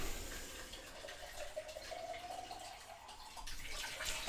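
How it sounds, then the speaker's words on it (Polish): A babbling stream murmurs faintly in the background, a soft continuous watery trickle with gentle drips, low and distant throughout. "nie wiem, czy słyszycie ten strumyk w tle."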